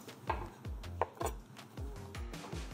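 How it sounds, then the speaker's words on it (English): Fresh shiitake mushrooms sliced with a knife on a cutting board, a steady series of close, crisp chops with short pauses between cuts and no talking. "So you still need to take that stem out and then you can slice them."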